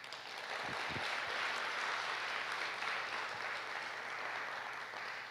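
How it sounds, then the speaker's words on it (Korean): An audience at the opening ceremony of a Korean security conference applauds in a sustained, even burst of clapping that swells quickly and holds steady, filling the hall. "우리 힘차게 축하와 격려 박수 부탁드립니다"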